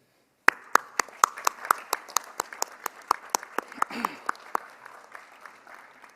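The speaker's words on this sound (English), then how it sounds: "this won't be the last time you hear a round of applause" A UCLA commencement audience claps in sparse, distinct hand claps that gradually thicken into scattered applause.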